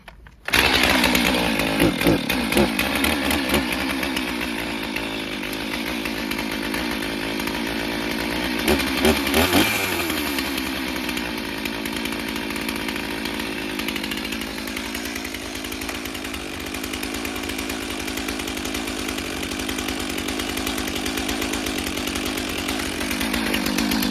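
Stihl chainsaw, an MS 362C or MS 500i, started and running steadily near at a high, buzzing idle, with a brief rev around the middle and no talking.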